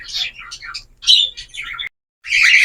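Small caged birds squawk and chirp harshly in rapid, agitated bursts as they are caught, close by, with a brief pause before another loud flurry.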